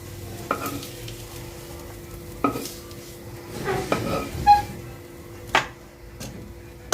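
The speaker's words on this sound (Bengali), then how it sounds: "পেঁয়াজ কুচিটা লাল লাল করে ভেজে নিতে হবে" Chopped onions fry into crisp birista in a karai for hilsa biryani, a quiet sizzle under several sharp scrapes and knocks of a spatula stirring against the pan.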